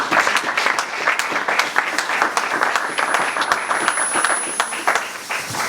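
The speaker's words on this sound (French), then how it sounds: "Alors acclamons pour la gloire de Dieu." Church congregation clapping and applauding together, a loud, dense wash of many hands sustained evenly for several seconds.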